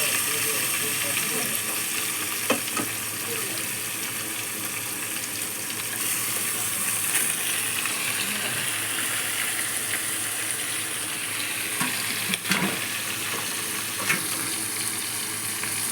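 Fish pieces sizzle loudly in a pan of fish curry, a dense, continuous frying hiss with occasional spatters and stirring clinks, close up throughout, with a voice talking over it.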